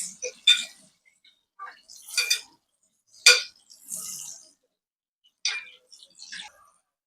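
Spinach and chili being stirred in a pan, with sparse light clinks and scrapes of a utensil against the cookware coming in short, irregular bursts at close range.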